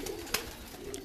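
Breeder's pigeons give a continuous low cooing hum, with a brief sharp click or flutter partway through, close and moderately loud, no talking.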